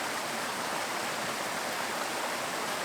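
A creek tumbling over rocks at North Cheyenne Creek gives a steady, close, broadband rush of flowing water with no talk.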